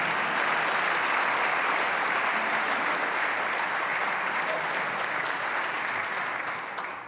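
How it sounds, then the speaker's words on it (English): Steady, dense applause from a large legislative audience at a Wisconsin State of the State address, sustained evenly throughout and tapering slightly at the end, with no talk over it. "First, you can clap for them,"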